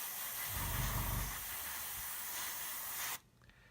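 An airbrush sprays clear coat onto a 1/35 scale Meng Whippet tank model, giving a steady close hiss that swells briefly and then cuts off abruptly near the end.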